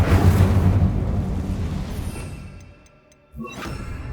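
An Incendio fire spell in Hogwarts Legacy erupts in a loud, close fiery burst that fades into a trailing crackle and hush, then a second sharp flare with bright ringing tones follows.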